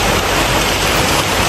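Heavy rain pours during a mountain hike on Gunung Latimojong in Sulawesi, a loud, dense, unbroken hiss filling the whole moment with no voices heard.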